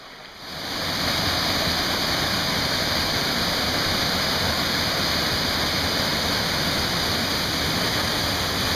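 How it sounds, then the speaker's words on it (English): Mountain stream at Kbal Spean in Cambodia rushing over a carved stone riverbed, a steady loud broadband water roar that swells in after a moment and holds evenly, close by with no voices. "That's some nice cool stream water."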